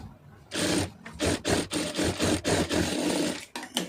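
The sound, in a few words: sewing machine stitching a blouse lining piece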